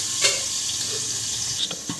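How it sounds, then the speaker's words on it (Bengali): Steady crackling sizzle of bhetki fish frying in hot oil, with a few brief louder pops and spatters, close by and without voices. "মাছটা প্রায় ভাজা হয়ে এসেছে"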